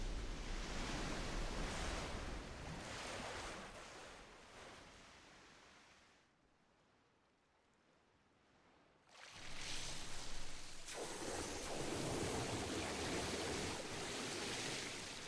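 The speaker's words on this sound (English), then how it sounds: "Not sure if waterfall or leakage." Leaking water in the Chrono Cross video game gives a loud, steady rushing wash like a waterfall, fading into a near-silent lull midway before surging back at full strength.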